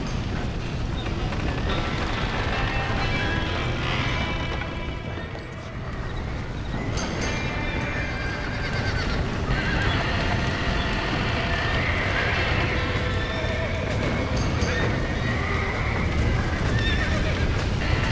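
Panicked horses in Red Dead Redemption whinny loudly over trampling hooves amid a constant roaring, rumbling din, with neighs rising sharply several times.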